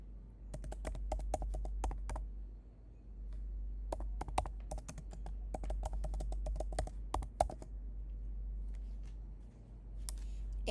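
A computer keyboard clatters as a machine group name is typed, with rapid bursts of close keystrokes, brief pauses between words, and a steady low hum underneath.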